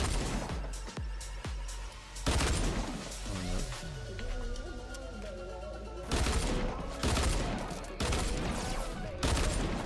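In the Fortnite video game, a burst rifle fires loud, repeated bursts of gunshots that crack through several times over about ten seconds, with no talk.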